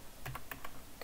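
Several quick keystrokes on a computer keyboard enter a remote's name during Rclone setup on Windows, the clicks close and distinct against a quiet background.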